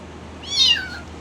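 A cat being bathed gives one short, close, plaintive meow that rises and then trails off over a quiet background hum.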